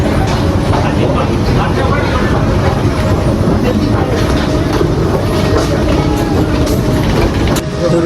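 Train noise at Bolpur Shantiniketan station, a steady loud rumble of rail traffic with mechanical clatter filling the whole stretch, with voices mixed in among the din.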